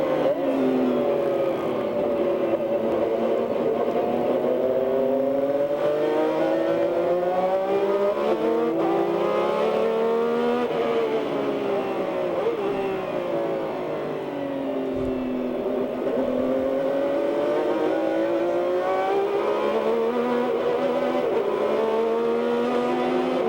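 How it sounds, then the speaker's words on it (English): A Ferrari V12 race car at the Rolex 24 at Daytona in 2002, its engine screaming loud and close in a continuous high-revving wail that rises and falls through gear changes for the whole stretch, with no talk over it. "Let's enjoy the sound of a V12 Ferrari in battle."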